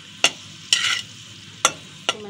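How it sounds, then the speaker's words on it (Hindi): Raisins roasting in a pan for panjeeri give four brief stirring scrapes and crackles at an even pace, close and fairly loud, with low frying noise between strokes. "किशमिश भी इसमें मैं रोस्ट कर लूँगी"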